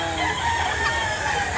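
Chickens for sale at a Saturday market in Lipa City, Batangas, with a rooster crowing amid the clucking of young birds, loud and close against a dense hiss of background noise.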